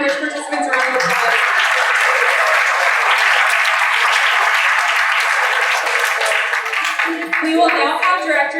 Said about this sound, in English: Let's give all our Upward Bound Bridge participants a round of applause.